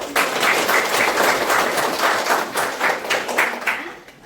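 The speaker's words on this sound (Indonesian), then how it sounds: "beri aplaus untuk kelompok ini" Audience applause for a presenting group at a university teaching-certification workshop in Jakarta, steady dense clapping filling the room for about four seconds before tapering off, with no voices over it.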